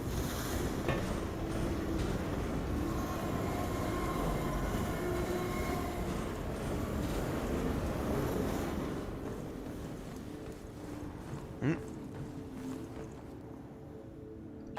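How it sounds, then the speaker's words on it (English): A train rumbles past overhead in Half-Life 2, a loud, continuous rolling roar that fills the space, then thins out and fades toward the end, with a brief metallic clank near the close. "Train overhead."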